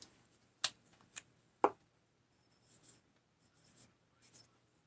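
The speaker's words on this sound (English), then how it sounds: "So I'm just going to write on here." Pen writing on a parts sleeve for an 880, a few quiet scratchy strokes with sharp taps in a quiet room.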